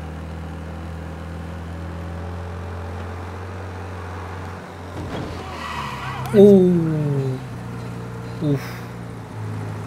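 A car in the Mafia Definitive Edition video game drives with a steady engine drone, then brief tyre squeals and a sharp swerve midway, followed by a short clunk, with a man's brief exclamation.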